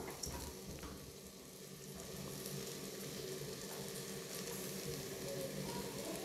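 Masala sautéing in a pan for mutton cashew fry makes a soft, steady sizzle and crackle, with faint stirring throughout and no voices.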